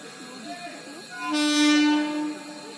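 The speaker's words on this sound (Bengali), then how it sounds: "5টা 10 ট্রেন, 5টা 10 ট্রেন।" A train horn sounds as a train arrives at a station, a single sustained blast lasting about a second amid station ambience and nearby chatter.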